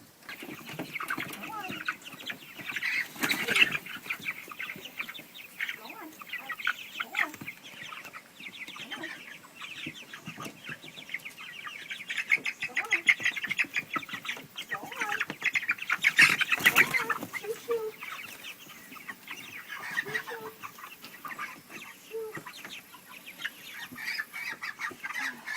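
One-month-old chicks cluck and peep near the microphone in a coop, a busy continuous chorus of short calls with occasional louder bursts and rustling, a voice occasionally audible among them.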